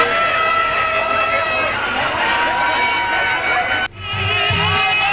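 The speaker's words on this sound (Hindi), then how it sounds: "जिधर देखिए उधर भीड़ ही भीड़ है पूरे मेले में।" Dense crowd noise fills the Salori Dadhikando fair, a steady wash of many voices chattering and shouting nearby, with a brief dip near the end before the babble swells again.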